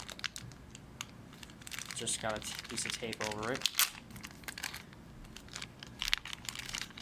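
A little plastic bag is crinkled and pulled open to unwrap a Lionel E33 rectifier pantograph. The rustling is close and crackly, with a person talking over part of it.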